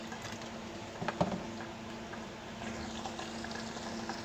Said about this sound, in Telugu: వాటర్ బాయిల్డ్ అవుతున్నాయి కదా